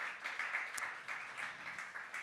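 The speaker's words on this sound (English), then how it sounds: "So she's not here, but you can still give her a round of applause." Applause from a workplace weekly breakfast gathering welcoming a new online community manager in London; a steady wash of clapping from a group, moderately loud, lasting a couple of seconds with no talk over it.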